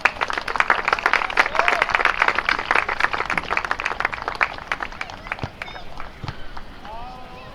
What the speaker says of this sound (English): In the stands cheering Jackson on are his family and friends